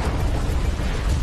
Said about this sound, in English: Emissary gets plugged in, Trypticon breathes fire